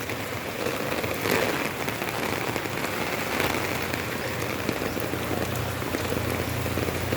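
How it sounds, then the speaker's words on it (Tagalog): Steady, dense rain pattering on a surface, close and continuous with no pauses. "Nabasa yung damit ko sa ulan"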